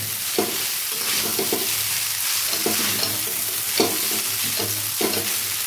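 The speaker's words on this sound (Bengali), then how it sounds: "এইভাবে ভাজতে হবে বন্ধুরা" Vegetables frying for street-style veg chowmein with black pepper, a steady hot sizzle punctuated by regular scraping stirs of a spatula against the pan, close and even throughout.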